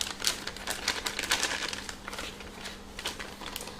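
A plastic piping bag crinkles and crackles as it is folded and filled with macaron mix, a steady busy rustle of close handling that goes on throughout, with no talking.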